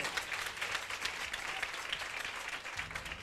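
A church congregation bursts into steady applause to acclaim the Lord, dense clapping sustained throughout at moderate distance with no break.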